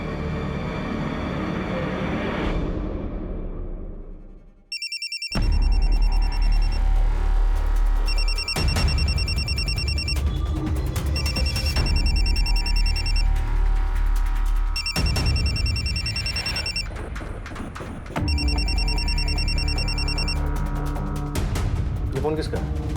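A telephone rings in repeated bursts over a loud, busy background of music or voices, the ring pattern recurring several times, at a home during a police questioning.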